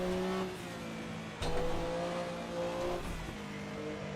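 Porsche 962 C race car in Assetto Corsa accelerating hard, a loud, close engine note climbing through the gears with a sharp upshift partway through, alone with no talk.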